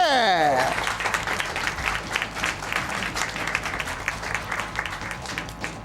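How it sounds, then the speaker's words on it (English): Crowd at a live speedrun event breaks into applause, dense clapping with some cheering that holds steady for several seconds, following a falling electronic game tone; voices talk over it. "Round of applause for doing it."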